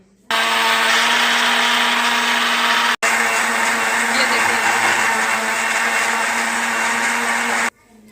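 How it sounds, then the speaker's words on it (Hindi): A mixer grinder whirs steadily as it blends onion and aloe vera into a paste, loud and continuous for about seven seconds with one brief cut partway through. "तो अब ये हम एक मिक्सचर में डाल के ग्राइंड करेंगे"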